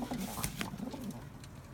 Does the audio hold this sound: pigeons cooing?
yes